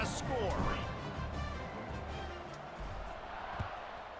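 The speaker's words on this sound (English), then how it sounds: "this crowd is buzzing after that last score" A stadium crowd in an NCAA football video game keeps up a loud, steady buzzing roar, with a commentator talking over it throughout.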